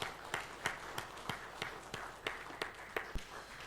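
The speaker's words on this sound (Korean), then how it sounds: "우리 박수로 하나님께 영광 돌리겠습니다." A church congregation clapping together during a Sunday worship service, steady rhythmic claps at an even pace, fairly faint and heard from a distance in a reverberant hall.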